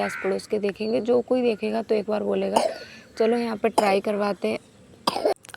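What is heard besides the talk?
child coughing with a cold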